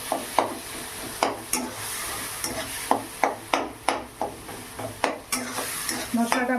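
A spice mix with chopped tomato and green chili, including Kashmiri chili powder and salt, sizzles loudly in a pan while a spoon scrapes and knocks through it in a regular stirring rhythm.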